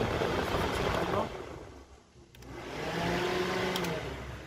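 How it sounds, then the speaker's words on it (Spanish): The electric cooling fan of a 2003 Neon runs steadily in a garage. Its broad, airy whir holds nearly constant, dips briefly and then swells again. It is moderately loud and heard up close. "Como puedes ver, ahí nuestro ventilador está funcionando."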